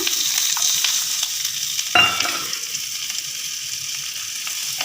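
Two chopped onions hit hot oil in a pan for a broccoli curry, a sharp burst of sizzling at once swelling into steady, close frying hiss with faint stirring, no voices.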